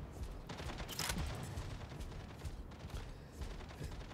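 Rocket mortars firing in the Mech Arena: Robot Showdown game, a dense rumbling volley of booms and rapid blasts that continues throughout at moderate, somewhat muffled level, with no talking.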